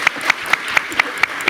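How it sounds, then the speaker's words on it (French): An audience at an economics talk in Lomé on the CFA franc claps in a steady, evenly spaced rhythm, with about seven sharp, moderately loud hand claps standing out over a soft room background. "on peut l'applaudir en effet"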